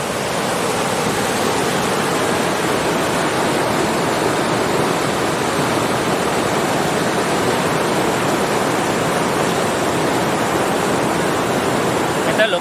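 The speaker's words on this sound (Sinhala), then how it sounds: "මේ පේනව නේද වතුර රැල්ල." Rushing water at a resort, strong current and breaking waves forming a dense, continuous roar close by, unbroken for the whole stretch.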